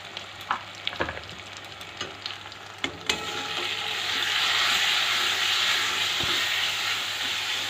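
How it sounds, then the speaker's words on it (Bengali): Ground turmeric, chili powder and cumin frying in hot oil for a Bengali pomfret curry, a steady close hiss of sizzling that swells and stays loud after a few early clinks and scrapes of stirring, with no talk. "মশলাটা থেকে তেল ছেড়ে দিয়েছে, মশলাটা কষানো হয়ে গেছে।"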